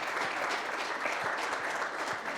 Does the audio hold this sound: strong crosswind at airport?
no